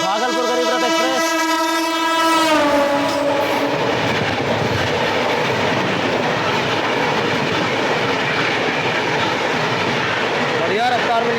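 Train 22405, the Bhagalpur–Anand Vihar Garib Rath Express, overtakes alongside with a loud horn blast in the first seconds, then a steady close roar and clatter of wheels and coaches rushing past for the rest of the pass.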